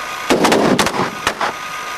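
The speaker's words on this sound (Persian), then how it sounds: "بزنید شلیک کنید" Several sharp gunshots ring out in quick succession on a film set, loud and close, with a brief pause before two more bursts.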